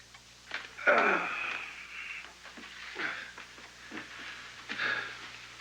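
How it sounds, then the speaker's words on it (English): Labored, wheezing breaths of an ill man recovering from surgery, a raspy rush near the start followed by several fainter wheezy breaths at irregular intervals, close and with no talk. "Also his breathing."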